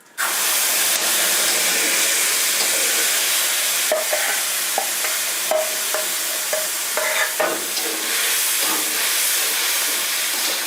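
Spice paste for a vegetarian cauliflower and potato curry frying in hot oil, a loud, steady close sizzle and hiss with occasional spoon scrapes and stirring clinks against the pan, no voices.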